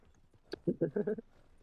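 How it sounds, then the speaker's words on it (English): A quick run of horse hoof clops in Red Dead Redemption 2, about five hollow knocks in a brisk rhythm, then quiet. "Oh, I stole Guy's horse"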